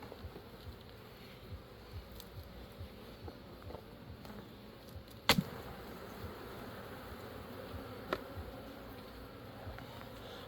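A steady, dense buzz of many honey bees fills the clip during a hive inspection, with a few sharp clicks and knocks from handling the hive.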